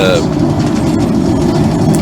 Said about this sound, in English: there is always going to be a train running up and down the world, this little section